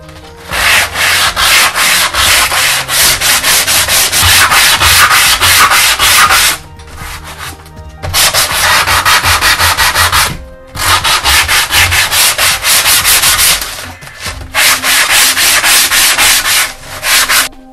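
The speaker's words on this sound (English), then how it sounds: "I'm using 240 grit sandpaper on a sanding block" A foam wing for a 37-inch FPV flying wing being sanded with 240-grit sandpaper on a sanding block: loud, close, raspy scrubbing in four long sustained bursts separated by short pauses.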